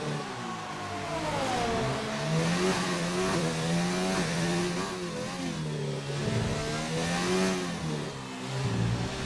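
Papaya orange McLaren race car in a racing video game at Baku, its engine revving loud and continuous, the pitch climbing and falling through gear changes and corners for the whole stretch, with no talking.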